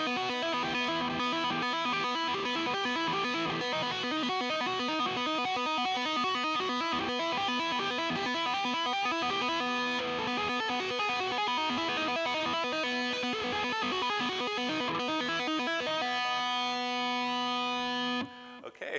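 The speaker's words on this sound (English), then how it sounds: "a trill is actually where you do consecutive hammer-ons and pull-offs right after another" A sustained, heavily distorted electric guitar plays a rapid, continuous trill of consecutive hammer-ons and pull-offs without a pick, loud and unbroken for many seconds before cutting off.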